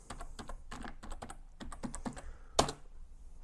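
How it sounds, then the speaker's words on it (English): A password is tapped out on a computer keyboard during a Linux install: a quick run of light, close keystrokes with uneven rhythm, closing on one louder key press near the end, no voices. "Got to put my password in."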